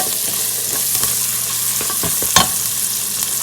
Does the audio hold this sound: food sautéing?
yes